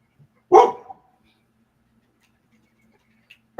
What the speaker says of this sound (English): The dog's gonna bark now.